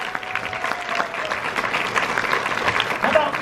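Crowd applause from the audience at a horror film screening Q&A, a continuous, fairly loud spread of clapping across the hall, with faint voices mixed in beneath.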